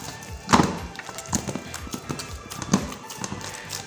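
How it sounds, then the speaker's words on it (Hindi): Wheat flour dough being kneaded with fists, giving soft irregular thumps and slaps at close range, heard alone. "दोनों मुट्ठियों से आटा बिल्कुल सॉफ्ट हो जाता है।"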